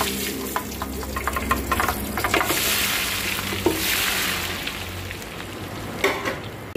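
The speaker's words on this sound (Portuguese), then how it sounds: "a gente vai fritar os nossos salgados" Brazilian savory party snacks (salgados) deep-frying in hot oil, a steady broad sizzle with bubbling swells and occasional clinks, close and continuous with no talking.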